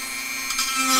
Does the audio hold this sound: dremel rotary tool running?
yes